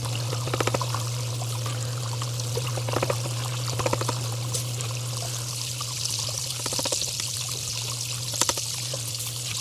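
Water and muddy pay dirt run through a sluice with a ribbed mat, a steady pouring trickle close by over a constant low hum, with occasional brief rattling bursts of gravel, no talk.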